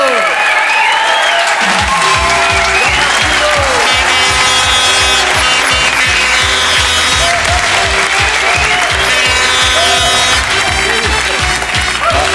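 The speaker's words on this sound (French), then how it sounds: "Et c'était Jean-Marc Thibault, on les applaudit, bravo." Loud, sustained applause from a studio audience on a French TV talk-game show, with a strong tonal music bed running underneath the clapping throughout.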